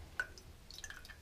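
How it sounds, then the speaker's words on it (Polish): Water dripping from a shaving brush just lifted out of water, a few faint, close drips and small splashes in a quiet room. "wyciągam pędzel z wody"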